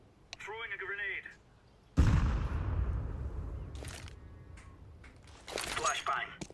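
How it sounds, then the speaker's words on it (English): A grenade blast in a video game, a sudden loud boom that decays over a few seconds, followed by further sharp bursts, with a voice talking just before it. "Throwing a grenade."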